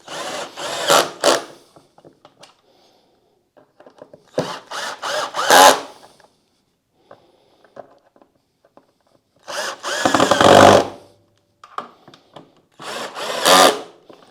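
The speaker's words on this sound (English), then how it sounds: "So now I can use the screwdriver." A power screwdriver driving screws to fasten a Twin Air pre-filter on a Yamaha Tenere 700, with several short whirring bursts separated by pauses, close and loud.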